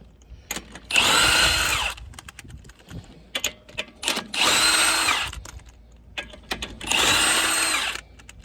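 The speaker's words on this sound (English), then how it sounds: "you get yourself a good impact and you hit them off" An impact wrench breaks loose tight lug nuts on a car wheel in three loud, rattling bursts of about a second each. Lighter clicks and clatter fill the gaps between bursts.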